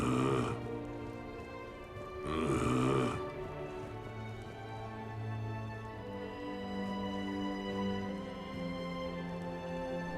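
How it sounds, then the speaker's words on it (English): A character snoring in Mass Effect 3, with two loud rasping snorts a couple of seconds apart over a steady background music bed. "Hope I didn't wake anyone up with my snoring."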